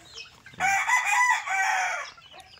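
A young chicken about three months old gives one sustained crowing call lasting over a second, close and clear with no talk around it.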